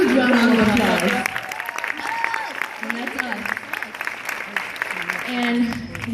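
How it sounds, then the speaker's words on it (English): Audience applause at a team culture talk, clapping running throughout, mixed with voices and cheering that come and go over the clapping. "To me, that deserves a huge round of applause."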